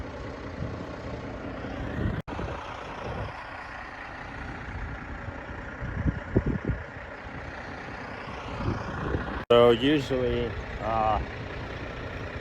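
A truck idles at a grain bin during a Michigan soybean harvest, a low steady rumble running throughout with a brief hiss and clank, while someone talks over it near the end.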